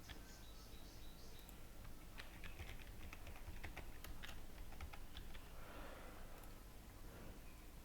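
Keys tapped on a computer keyboard while a complex password is entered, a quick irregular run of light clicks over a steady background hiss, fairly faint and close.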